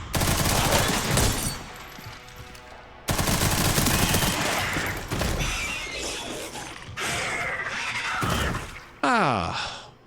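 Heavy gunfire in the video game Resident Evil Requiem, a finale fight in Raccoon City, with loud repeated bursts, mechanical clatter and shattering impacts layered together, and a voice speaking over parts of it.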